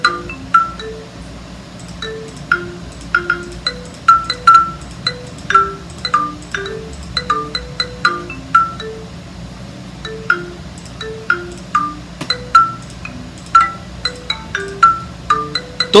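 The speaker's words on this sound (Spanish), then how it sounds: "Este es el sonido de marimba." Marimba tones from the SoundMaker app, a steady run of short struck mallet notes with quick decays over a sustained low tone, moderately loud and continuous, with no voices.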